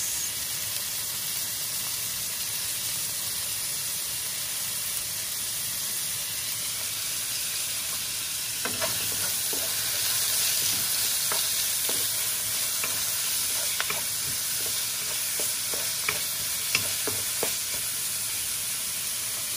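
Tomatoes and onions fry in a pan for Bicolano igado, giving a steady, close sizzling hiss with occasional sharp clicks of stirring midway through.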